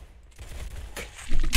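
Rapid bursts of gunfire from guns in a Roblox Arsenal shooter match, several close sharp volleys clustered together and growing louder near the end, with no voices.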